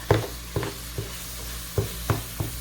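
Meat with minced garlic browns in a pan. A low sizzle runs under about six separate spatula scrapes and stirs spaced irregularly, close and fairly quiet, with no talking.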